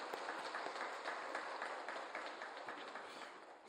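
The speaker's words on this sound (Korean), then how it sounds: "우리 교회 안팎에서 수고하시는 주의 일꾼들에게 박수로 격려하겠습니다" A church congregation applauds its workers during a Sunday morning worship service, a soft, steady patter of many hands clapping at a distance, slowly fading.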